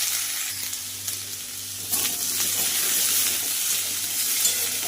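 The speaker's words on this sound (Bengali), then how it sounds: "এই যে দেখো ডালটা ফুটবে আর এদিকে তরকারিটা হচ্ছে" Dal simmering in one pot while a vegetarian papaya and pea curry cooks in a pan, a steady close sizzle and bubbling hiss with stirring, growing a little busier partway through, no talk.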